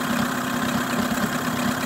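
An outboard motor idles with a steady, even low drone and a continuous buzzing hum, holding level throughout without revving.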